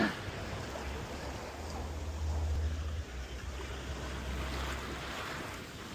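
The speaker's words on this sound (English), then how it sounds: "Aggressive as waves." Ocean waves and surf washing onto an Aruba beach, a steady broadband roar with low rumble and some wind buffeting on the microphone, continuous without any clear voices.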